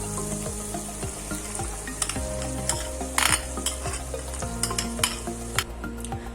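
Ground masala paste with red chilli powder for mutton korma frying in a pan, with a steady sizzle and regular scraping stirs and light utensil clinks up close, with no speech.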